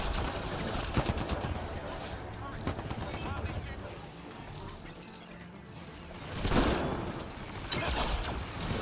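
Gunfire aimed at turrets in Mass Effect Andromeda: a steady rattle of weapon shots and impacts under in-game character dialogue, swelling into louder bursts toward the end.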